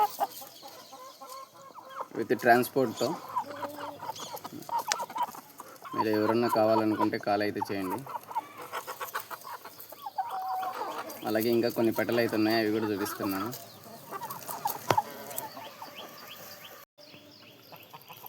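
Roosters and hens on a farm cluck and call in repeated bursts, some loud and close, while someone speaks over and between them.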